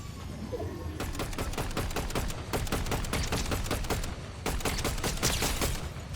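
Gunshots in the video game Fortnite ring out as rapid volleys of sharp cracks in bursts, some dense and overlapping, loud and close against a steady background.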